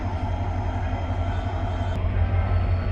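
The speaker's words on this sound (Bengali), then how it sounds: "জয়দেবপুর স্টেশনে আরেকটি ট্রেন আমরা দেখতে পাচ্ছি চলে এসেছে" A train pulls into Joydebpur railway station with a loud, continuous deep rumble and engine drone, heard close and steady with no voices.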